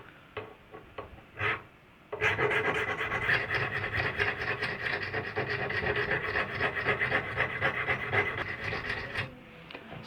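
Steady rasping as saddle files hog material off a tall acoustic guitar bridge saddle held in a vise, a continuous loud scraping stroke rhythm after a few short scrapes and a pause.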